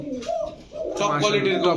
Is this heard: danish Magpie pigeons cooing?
yes